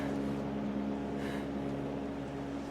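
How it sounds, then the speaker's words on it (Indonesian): A boat's motor drones steadily in the distance, a low constant hum with faint wind over it, heard without any voices near an island in the wild. "tiba-tiba terdengar suara mesin dari kejauhan"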